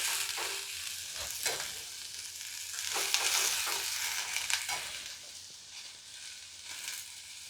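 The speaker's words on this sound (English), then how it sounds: "So I have added 6 small onions, roughly cut, and I will saute it" Six small, roughly cut onions sauté in a pan for tomato garlic chutney, a soft continuous sizzle with occasional stirring scrapes and brief louder bursts, fairly quiet and with no talking.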